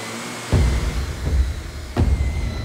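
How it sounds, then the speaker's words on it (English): A vacuum cleaner motor hums steadily nearby, with a few dull bumps and knocks as it moves along. "That thieving vacuum!"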